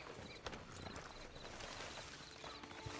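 Horse hooves in Red Dead Online clop at a steady walking pace, a continuous rhythmic patter set against busy ambient game sound.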